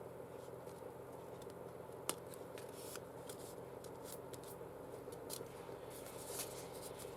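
Scissors snip through paper while trimming a small paper dress, a soft steady run of light crisp cuts close by with one sharper click, no talking.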